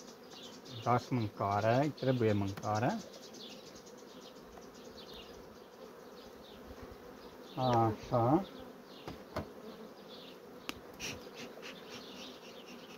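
A steady drone of honey bees buzzing at a hive fills the background, while a person speaks in short bursts over it, close by.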